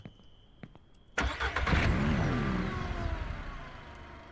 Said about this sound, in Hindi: अब मैं जा रहा हूँ गाड़ी निकालने